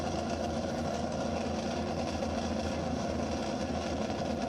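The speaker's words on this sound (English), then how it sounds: "1932 Ford Coupe sporting an 8-cylinder, 408 cubic inch 8-cylinder." A 1932 Ford Coupe gas altered with a 408 cubic inch V8 runs at a dry lake land speed event, giving a steady, loud engine drone that holds without a break and has no voices over it.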